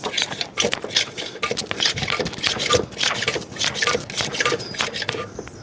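A hand-operated pressure brake bleeder being pumped up on a Fiat 500 Sport, a quick series of close mechanical clicks and rattling strokes repeating in a busy, uneven rhythm.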